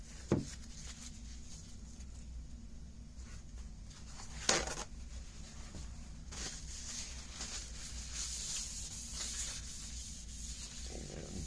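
Fine wet sanding on a car surface makes a soft, continuous rubbing scrape, close and fairly quiet, with a few brief knocks and rustles between strokes.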